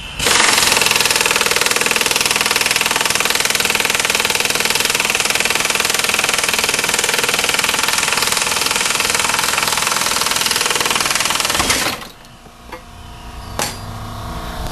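A loud, continuous rattling impact wrench roars for about twelve seconds while loosening the last bolt on a Saturn drivetrain being parted out, then cuts off abruptly, leaving a few faint clinks.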